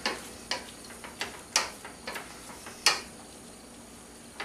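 Broccolini tossed around in pasta sauce in a pan, giving a series of sharp, close clinks and taps of utensil against pan at an irregular pace over a faint sizzle.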